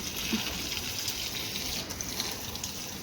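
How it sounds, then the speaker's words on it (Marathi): Water poured onto garden plants during the rainy season, a soft, steady stream of splashing that runs evenly and without pause, fairly faint and with no voices. "पावसाळा आहे पण तरी पण कसं झाडांना पाणी घालायलाच पाहिजे."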